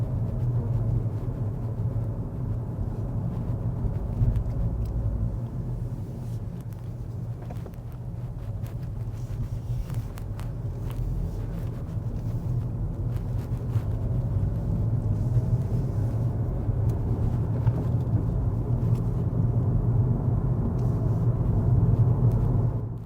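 Steady low rumble of a car driving along a road in Pakistan heard from inside the cabin, continuous engine and road noise with occasional faint clicks, no talking.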